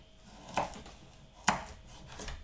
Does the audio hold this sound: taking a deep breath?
no